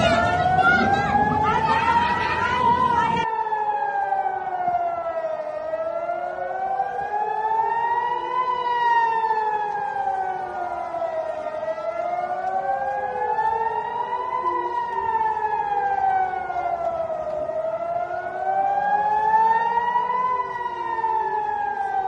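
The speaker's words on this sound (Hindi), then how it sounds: "वहां एयर रेड सायरन बजने लगे हैं।" A wailing air raid siren rising and falling in long slow cycles, loud and sustained, with a brief burst of background noise at the very start.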